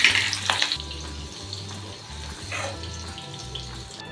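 Green beans and carrots for a Bhogi-style mixed vegetable dish hiss and sizzle in hot oil in a pan, with a sharp splattering burst at the start settling into a steady fry and low background hum.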